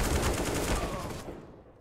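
AK rifle gunfire in CS:GO on the Mirage map during a G2 Esports versus Ninjas in Pyjamas match: a dense, loud burst of rapid automatic shots that fades out after about a second.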